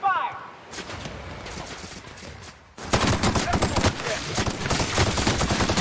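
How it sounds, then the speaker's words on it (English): Gunfire rattles in the video game The Outer Worlds: sparse shots at first, then dense rapid bursts and fusillades with loud, close impacts, mixed with voices. "Returning fire!"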